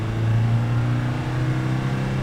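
A 1991 Land Rover Defender 130 with a 200Tdi diesel engine revving as it climbs through the gears; a steady, loud, close engine drone holds throughout with no talk.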